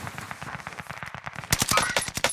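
A BREN LMG light machine gun fires in Warzone on Caldera, rapid rattling bursts of shots up close, growing louder and sharper partway through.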